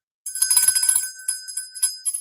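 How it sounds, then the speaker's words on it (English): A small sterling silver bell jingles with bright, high ringing strokes, a quick cluster of shakes followed by a few lighter tinkles, close and clear with no voices. "I found a sterling bell."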